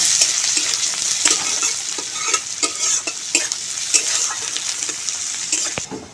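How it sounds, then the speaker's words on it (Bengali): Chopped medium onion and minced garlic fry in oil with cumin seeds, giving a steady close sizzle broken by repeated scraping stirs of a spatula against the pan. "এই জিরের মধ্যে দিয়ে দিচ্ছি একটা মাঝারি সাইজের পেঁয়াজ কুচি দিয়ে দিচ্ছি আট থেকে দশ পিস রসুনের কুয়া কুচি এগুলো একটু ভেজে নেব"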